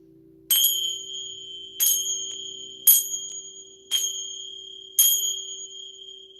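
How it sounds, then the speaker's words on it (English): Sacred chime struck five times at roughly one-second intervals, each strike a bright metallic ring that lingers and fades, clear and close in a quiet room with a faint steady hum beneath. "I'm going to go ahead and use my sacred chime to clear the room and start the reading"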